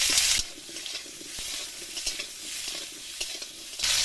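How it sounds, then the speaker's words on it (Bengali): Drumsticks and potatoes fry in hot mustard oil in a pan, crackling loudly at first. The sizzle settles into a softer bubbling hiss punctuated by stirring knocks and scrapes, then swells loud again at the end, with no talking. "সজনে ডাঁটা আর আলুটা ভেজে নেবো আগে"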